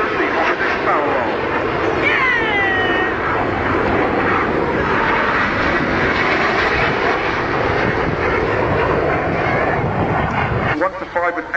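Red Arrows display jets roar overhead at the Bournemouth air show during an opposite barrel roll, a loud continuous rushing jet noise with shifting pitch, while a commentator talks over it on the public address.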